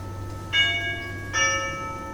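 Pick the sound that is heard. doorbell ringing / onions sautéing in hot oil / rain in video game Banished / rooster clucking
doorbell ringing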